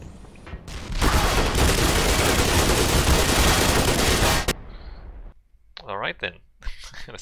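Rapid automatic gunfire in the Black Mesa video game, a dense, loud burst lasting several seconds, followed by quieter clicks and game effects as someone talks.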